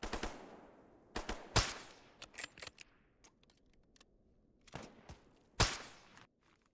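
Gunfire cracks out in a S.T.A.L.K.E.R. GAMMA firefight, sharp loud single shots and short bursts at irregular intervals with quieter distant shots and metallic clinks between them, no voices.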